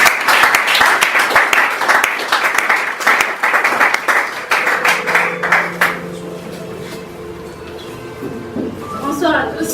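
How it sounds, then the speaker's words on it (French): A church congregation claps to encourage a woman approaching to give her testimony, dense clapping for about five seconds that thins out, leaving tonal ringing and some voices. "on va aussi applaudir pour l'encourager."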